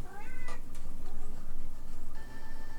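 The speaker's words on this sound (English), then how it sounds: "I hear you, cat." A cat meows several times at close range, drawn-out rising calls over a steady low hum, with no talk.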